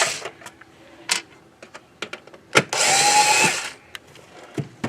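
A small power screwdriver or drill works on the hard drive screws inside an Xbox One S console, with short close whirs, clicks and one longer buzzing run.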